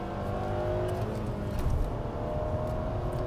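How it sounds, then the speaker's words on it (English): A 2021 Nissan Sentra SR manual engine revs hard and steadily on downshifts throughout, a loud continuous roar with slight swells, close up and without voices. "hit me with a downshift and rip it"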